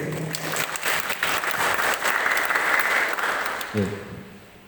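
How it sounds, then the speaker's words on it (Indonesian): A crowd claps steadily for several seconds at a village official's inauguration ceremony, a dense wash of applause that fades out as a voice briefly begins at the end. "Satu tepuk tangan untuk Keikut, Pak."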